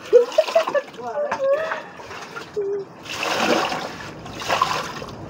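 Water runs and splashes in bursts during washing, with clinking and handling sounds early on and two louder gushes later, fairly close by.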